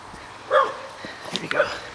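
A dog barks from somewhere nearby on a beach at the tide line: two or three short, sharp yips spaced across two seconds, fairly faint against outdoor ambience.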